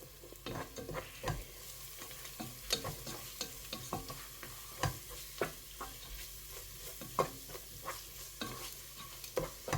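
Crushed garlic and green chilli being stirred in a pan with onion, a steady soft sizzle broken by frequent close scraping and tapping strokes of a spoon against the pan.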